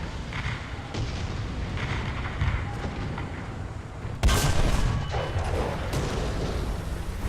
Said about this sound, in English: Got ourselves some artillery fire.